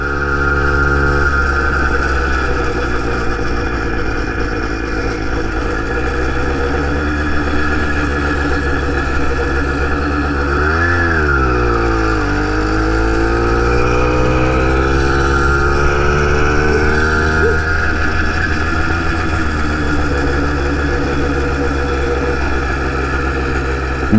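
A 2-stroke engine on a homemade motorized bicycle runs continuously for the whole stretch, a buzzy droning note that rises and falls in pitch around mid-clip as the throttle changes, with no talking over it.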